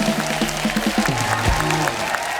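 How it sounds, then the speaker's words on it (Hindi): Studio audience at a Hindi comedy show, The Kapil Sharma Show, giving loud applause with music playing underneath, continuous and crowded throughout. "ये इनके लिए भी जोरदार तालियां"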